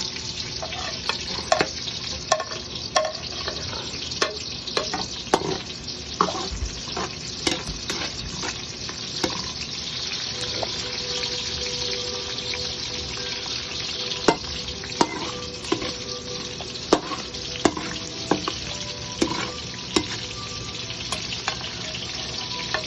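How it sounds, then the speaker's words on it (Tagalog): Pork and seasonings sizzle in a hot pan while being stirred, a dense steady frying crackle broken by scraping ladle strokes and knocks, close and continuous. "At ngayon, igigisa na po natin siya."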